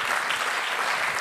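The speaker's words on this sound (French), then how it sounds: "vous pouvez lui faire un tonnerre d'applaudissements" Dense, sustained applause from a conference audience greeting speakers on stage at an awards round-table on food cooperation, steady and loud throughout with no voices over it.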